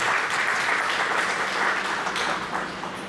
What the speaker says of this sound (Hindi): आइए स्वागत करें जोरदार तालियों से